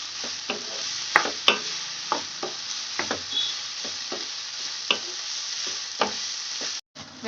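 Onions sauté in a pan for a Tamil chana masala, a soft, even sizzle punctuated by occasional spoon taps and stirring clicks, heard alone.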